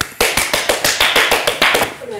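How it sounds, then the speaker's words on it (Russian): Audience applause comes as a run of loud, close, evenly spaced claps, about five per second, lasting a couple of seconds with voices mixed in. "Аплодисменты!"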